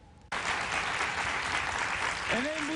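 Enthusiastic applause from a studio audience on a Turkish game show, a dense steady wave of clapping that bursts in after a brief quiet start and carries on loud and full to the end.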